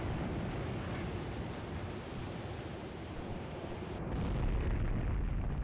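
Artillery barrage from 15 centimetre guns in the tank battle game Graviteam Tactics, on the Luga Line near Peleshi: a continuous low, rumbling roar of distant shelling that swells louder toward the end.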